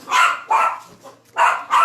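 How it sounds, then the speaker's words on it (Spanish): Several sharp dog barks, loud and close, come in quick bursts with a brief pause between them. "por eso que las perritas hacen tanto ruido"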